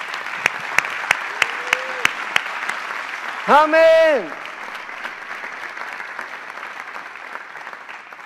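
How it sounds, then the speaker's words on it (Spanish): Congregational applause in a Spanish-language church service on prayer and revival: a few sharp scattered claps, then a brief loud voice calling out, followed by a steady, softer wash of clapping from the crowd. "Dale un fuerte aplauso a Jesús."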